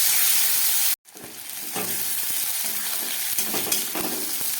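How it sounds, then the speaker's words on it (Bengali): Onion, tomato and capsicum frying in a pan with bay leaves, a steady close sizzle and hiss with stirring scrapes, after a brief silent gap at the start. "পেঁয়াজ, টমেটো আর ক্যাপসিকামটা খুব ভালো করে ভেজে নিলাম"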